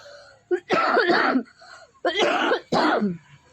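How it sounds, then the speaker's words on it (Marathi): Three harsh coughs, close and loud: two in a quick pair, then a short pause before two more sharp bursts. "असं बोलताच येत नाही मध्ये खोकला येतो आहे"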